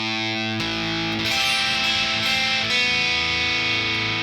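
One bar of the intro on a distorted electric guitar: a held note, then fresh picked notes and a chord change ringing loud and close into sustained, overdriven tones, with no speech.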